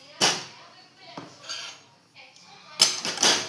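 Spoon mixing homemade salt, masala and chili powder in a metal dish, giving a few sharp, close clinks and scrapes separated by short pauses.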